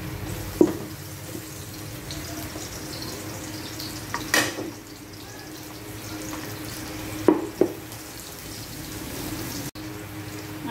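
Garlic and onions sauté in a pan as part of a steam-baked macaroni dish, giving a steady low frying sizzle with a few sharp clinks of utensils and spoon stirring.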